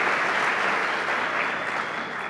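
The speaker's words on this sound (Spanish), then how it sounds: "Un aplauso." Dense, even applause from a conference audience during a keynote at PyConES 2018, many hands clapping steadily and fading slightly at the end.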